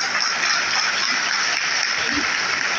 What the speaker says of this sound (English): Once again, we rise up and give a round of applause